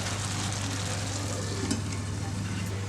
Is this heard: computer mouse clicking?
no